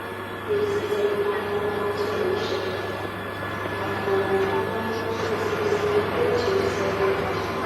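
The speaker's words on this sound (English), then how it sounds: "York Station is no longer the largest in the world, but it's still very crowded and busy." Steady rumble and low drone of trains inside busy York railway station, with a constant mechanical hum and faint murmur of activity throughout.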